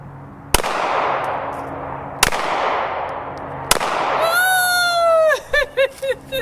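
Three sharp pistol shots from a BCA Grizzly 101 Glock clone ring out at an outdoor range, spaced about one and a half seconds apart over steady background hiss, followed by a brief burst of high chirping tones.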